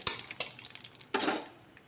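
Five-spice, bay leaf, fenugreek and dried chilli stirred in hot oil in a pan for a raw mango chutney, with a few soft metallic scrapes and clinks of a spoon over a faint sizzle, no voices.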